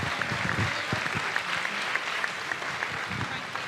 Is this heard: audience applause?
yes